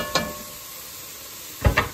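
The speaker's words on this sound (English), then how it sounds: "Potatoes are frying up" Potatoes and vegetables for a steak hash fry in a pan with a soft, steady sizzle, broken near the start and end by two brief clattering stirs.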